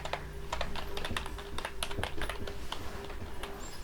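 A command for configuring NTP is typed on a computer keyboard, with rapid, irregular key clicks close to the listener and no talking.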